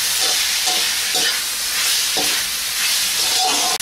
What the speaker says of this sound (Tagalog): I-fry lang natin ng konti.